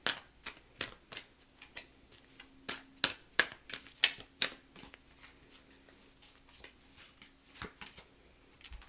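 Tarot cards being shuffled by hand: a quiet, irregular series of crisp card slaps and flicks, close by and alone.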